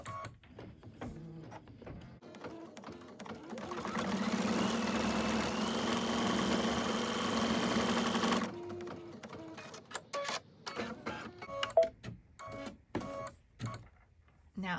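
A home embroidery machine stitches a test design onto fabric with a rapid, even mechanical whir and needle clatter for several seconds, then stops. Scattered clicks and handling noises follow as the machine sits idle.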